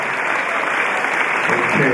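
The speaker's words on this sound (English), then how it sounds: "clap your hands again" A congregation at a home going service claps their hands together in a loud, steady wash of clapping that continues throughout without a break.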